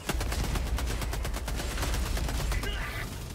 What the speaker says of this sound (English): this SMG is so good. It's so stable, bro.